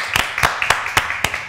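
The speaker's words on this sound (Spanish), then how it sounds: "Así que un aplauso para Kiana Lorenzini." Five or six distinct hand claps at an even rhythm, crisp and fairly close, like a small group clapping briefly.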